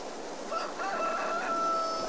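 Chickens in the farming game Landwirtschafts-Simulator 22, a rooster-like crowing call with a few soft clucks over a steady hum of game ambience.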